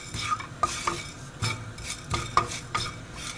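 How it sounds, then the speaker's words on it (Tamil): A spoon stirs fenugreek seeds dry-roasting in a pan for sambar powder, giving repeated scraping and rattling strokes with faint crackle, close and clear with no talk. "இப்போ வெந்தயம் போடுறேன். வெந்தயமும் நல்லா செவக்க வறுக்கணும்."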